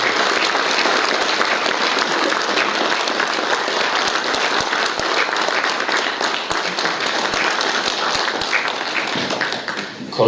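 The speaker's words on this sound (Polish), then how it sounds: "A teraz proszę, żeby mu Państwo dali takie brawa," An audience at an award ceremony for the Marshal of the Mazowieckie Voivodeship prizes keeps up loud, dense applause for about ten seconds, with many hands clapping at once and no talk over it.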